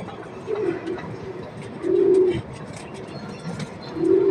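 Pigeons coo in a few low, soft bursts, with a louder coo near the middle and another at the end, set against a faint, steady background.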